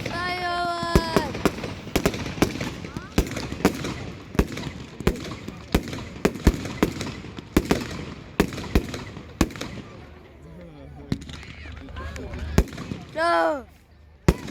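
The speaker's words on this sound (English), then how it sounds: "Firework!" Fireworks exploding at a firework display, a rapid irregular volley of sharp loud bangs and crackles, with people shouting and exclaiming in between and a brief whistling shriek near the end.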